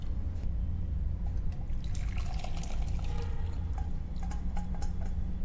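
Brewed butterfly pea flower blue tea being poured into a container, a faint, steady stream of liquid with light splashing and dripping, heard alone at low level.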